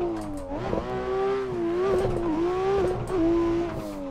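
A drift competition car in a racing video game revs hard with a steady, wavering engine note that rises and dips, joined by squealing tires as it slides, loud and close with no talk.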